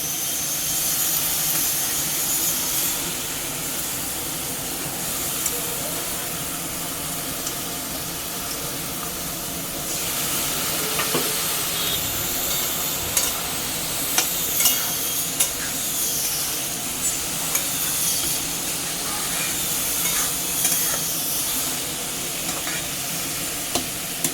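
Spices, ground ginger, green chilli and tomato paste frying in a pan, a continuous close sizzle and hiss with occasional stirring clicks and scrapes across the whole stretch.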